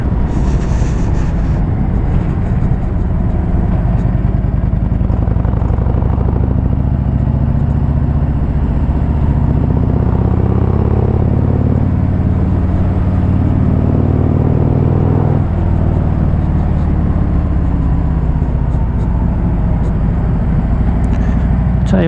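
A 2018 Harley-Davidson Street Glide cruises along a road, its engine rumbling steadily and loudly throughout, mixed with constant wind and road roar.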